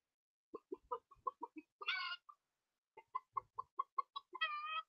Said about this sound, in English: So I am able to listen to this chicken voice.